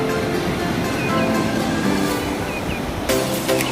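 Surf rolls steadily onto Padukere beach in a continuous broadband wash, with faint distant tonal noises above it.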